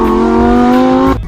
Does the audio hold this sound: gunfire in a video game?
no